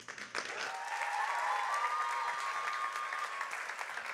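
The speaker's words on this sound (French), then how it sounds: "On les applaudit, on applaudit nos équipes" Audience applause for the teams at a corporate business event, a steady wash of many hands clapping alone, moderately distant and sustained for several seconds.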